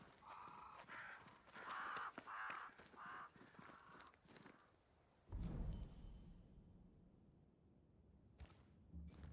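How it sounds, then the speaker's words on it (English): Crows caw near a great tree in the Banishers: Ghosts of New Eden game world, a run of fairly close, repeated harsh calls over soft ambience before a low thump and quieter background. "Crows. They flock to that great tree up there."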